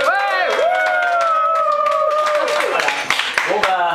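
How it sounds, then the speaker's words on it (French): An audience claps and cheers at a weekend event, with whoops and sung or shouted voices rising over a steady wash of applause throughout. "On applaudit"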